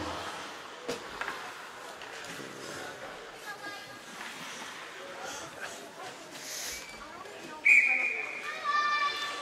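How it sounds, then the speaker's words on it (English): A referee's whistle blows sharply near the end of a U-19 women's ice hockey semi-final at Cairns Arena, over steady rink ambience and continuous commentary. "and we got a whistle"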